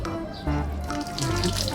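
Water pouring steadily from a tap or hose onto ornamental plants and their potting medium, splashing close by in a continuous gush.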